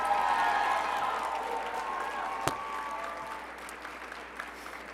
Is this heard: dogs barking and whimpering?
no